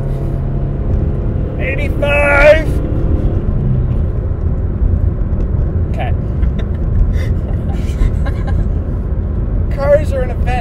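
A car with a 2-liter engine at full throttle, a steady, loud, broadband engine roar running through the whole stretch while people shout and talk over it.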